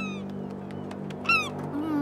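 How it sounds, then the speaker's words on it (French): Cartoon seagulls crying at the seaside in a Thomas & Friends episode, a few short, high, wavering squeals over a low steady background hum. "Je suis pas sûre d'aimer les mouettes."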